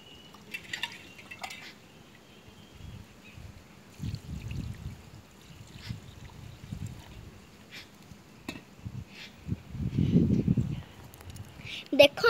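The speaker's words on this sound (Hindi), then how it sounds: "तापरे आमे पानी दबा" Water is poured onto newly planted saplings set in freshly filled mud at a plantation, a soft, close splashing and dripping that swells near the end, with a person talking throughout.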